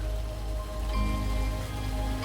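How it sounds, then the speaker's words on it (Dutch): Rain falls steadily in Tunisia, a dense even patter of drops on surfaces with a low rumbling undertone, constant throughout and free of voices. "De eerste keer dat we regen meemaken in Tunesië, in het land."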